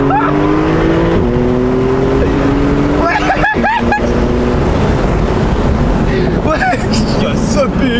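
A Porsche 991.2 Carrera 4 GTS Cabriolet's engine rises in pitch during a launch, then shifts and climbs again, loud and close inside the car while people talk over it.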